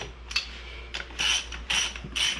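A hand ratchet snugs up rocker arm bolts on the engine of a 1984 GMC Sierra square body truck, clicking in several short bursts of quick pawl ticks separated by brief pauses, close and alone.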